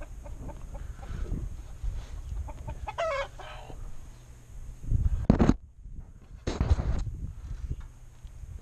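Chickens cluck and call in a ranch chicken coop, with scattered faint clucks and a few louder bursts of squawking over a low background hum.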